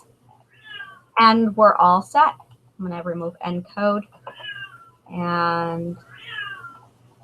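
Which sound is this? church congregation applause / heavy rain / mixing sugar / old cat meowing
old cat meowing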